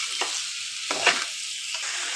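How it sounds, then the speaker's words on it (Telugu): Capsicum pieces fry with potatoes and tomato in a pan, giving a steady, close hiss of sizzling oil with a few spoon-stirring scrapes and bumps and no talk. "ఇప్పుడు క్యాప్సికమ్ ముక్కలు వేసేస్తున్నాను. ఇప్పుడు బాగా ఫ్రై చేసుకుందాం."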